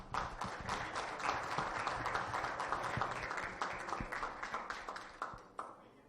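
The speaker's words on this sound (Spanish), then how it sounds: "Roel Guajardo Cantú, Homero Rico Garza, para quienes pido un fuerte aplauso." A conference audience gives warm applause at an induction ceremony of a national history and geography academy in Nuevo León, Mexico. The dense crowd clapping stays fairly steady, with sharper individual claps, then thins out and stops near the end.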